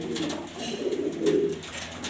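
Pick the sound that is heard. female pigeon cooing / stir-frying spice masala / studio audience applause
female pigeon cooing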